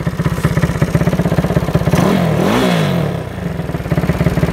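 A Honda CT70 clone pit bike with a 155cc engine chugs with a loud, rhythmic single-cylinder putter, then the throttle blips into a rising and falling rev before it settles back to the pulsing idle.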